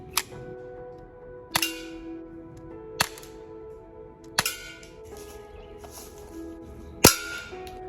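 Colt M45 CQBP blowback air pistol firing at a small metal can about 20 feet away, five sharp cracks spaced roughly one and a half seconds apart, each followed by a faint metallic ring, over a low steady hum.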